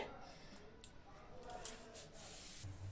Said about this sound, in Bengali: দিয়ে দিচ্ছি পেঁয়াজ মাছের তেলের মধ্যে